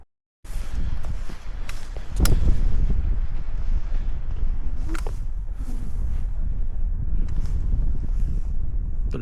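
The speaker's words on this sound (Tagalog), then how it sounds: "Lakas ng hangin sa ibabaw, oh." Strong, cold wind roars steadily across Mt. Pulag on the Ambangeg trail, rising in gusts and buffeting the microphone, with occasional soft rustles and scuffs close by.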